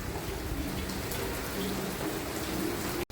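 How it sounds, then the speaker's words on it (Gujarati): Steady heavy rain falls continuously at night, a dense even hiss of drops on surfaces, with a faint low hum underneath and a sudden cut at the end. "હજી સુધી કન્ટિન્યુઅસલી વરસાદ ચાલુ"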